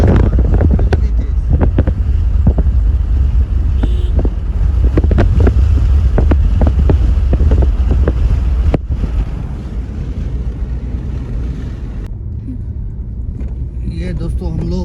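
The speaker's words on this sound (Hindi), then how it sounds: "हवा की आवाज़ आ रही हो, इमेजिन करो कितनी तेज़ हवा है, कितनी तेज़।" Strong wind at Kunzum Pass in Spiti roars and buffets loudly and continuously, with a low rumbling rush that eases slightly in the second half, as a voice talks over it.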